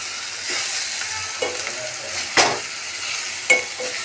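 Food sizzles steadily in a hot pan while it is stirred, with a few sharper scraping clinks of the spoon against the pan standing out near and alone.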